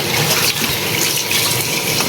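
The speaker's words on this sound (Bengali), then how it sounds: "তো আমি এটাকে ভালো করে বারবার করে ধুয়ে নেব।" Tap water runs loudly and steadily as raw liver is washed under it, splashing continuously close by with no speech.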